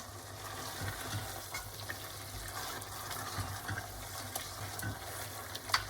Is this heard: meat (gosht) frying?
yes